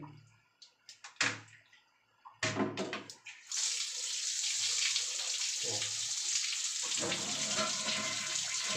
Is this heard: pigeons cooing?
no